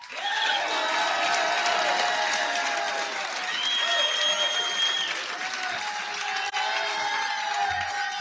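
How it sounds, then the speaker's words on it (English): Audience at a watercraft racing Hall of Champions celebration applauds and cheers as a champion is welcomed to the stage; a steady wash of clapping with crowd voices under it, holding for about eight seconds. "I have my own cheering crowd."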